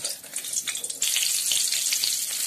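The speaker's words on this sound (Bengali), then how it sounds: "এরপর তেল গরম করে এর মধ্যে দিয়ে দেব 2টো তেজপাতা" Two bay leaves hit hot oil in a pan, producing a bright, loud hissing sizzle that jumps up partway through and stays dense and close, with no talking.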